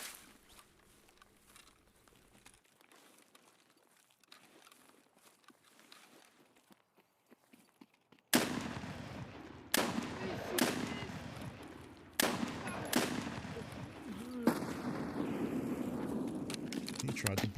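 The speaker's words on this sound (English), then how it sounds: "I heard a gunshot down this way." Gunfire in the shooter game Escape from Tarkov, several sharp loud shots that begin abruptly after a quiet stretch, with spaced reports and steady game noise between them.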